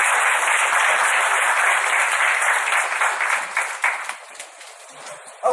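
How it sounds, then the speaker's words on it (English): Steady crowd clapping from a meetup audience that thins into scattered claps and fades out, with a brief voice at the very end. "another round of applause for these gentlemen"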